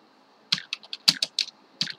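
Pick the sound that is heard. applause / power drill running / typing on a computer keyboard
typing on a computer keyboard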